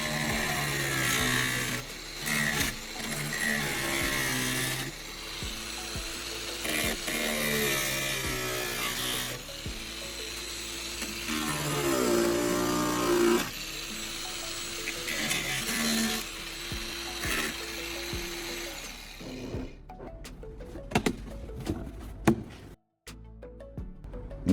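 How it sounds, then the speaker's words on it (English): An angle grinder cuts along a marked line through a thick old plastic can, giving a loud, continuous rasping whine that rises and falls in pitch as the blade bites. It runs almost without a break before cutting off near the end. "I'm using an angle grinder to carefully cut along the line I just drew"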